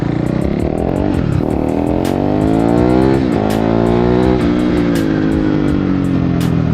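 A KTM RC 390 motorcycle on a new Zoom Red X1 tyre accelerates hard, its engine note climbing through several rising pulls with brief dips between gears, loud and close with rushing wind.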